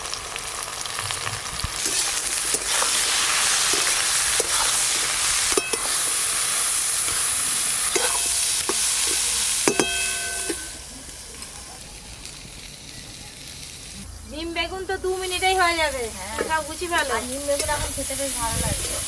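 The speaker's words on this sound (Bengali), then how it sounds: "তেল তো ভালো করে গরম হয়ে গেল কেটে ধুয়ে রাখা বেগুনগুলো দিয়ে দেব" Eggplant pieces with turmeric and salt fry loudly in hot mustard oil, a dense close crackle and hiss for about ten seconds, then a quieter stretch before high, bird-like chirping sounds come in.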